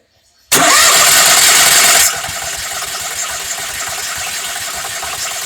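A 2019 Bounder 33C motorhome's onboard generator cranks and fires: a sudden loud start with roughly a second and a half of cranking roar, then it settles into a steady, close running drone.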